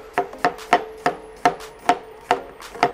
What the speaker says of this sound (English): I'm gonna chop the onions